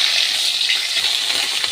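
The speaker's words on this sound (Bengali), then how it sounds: "আমি সেই মাছ ভাজা তেলের ভিতর দিয়ে দিচ্ছি" Onion paste hits oil left from frying turmeric-and-chili-coated pangas fish and gives a loud, close, continuous hissing sizzle with light crackles, lasting under two seconds.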